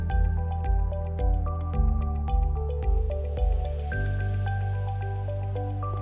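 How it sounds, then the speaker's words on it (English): Minecraft water poured from buckets at a portal's start runs across the blocks, heard as a tune of soft blocky tones and drips, each note thudding in sequence before settling into a sustained, mellow tone. "when you place down 2 water buckets at the start of the portal, the water should run all the way to the other side"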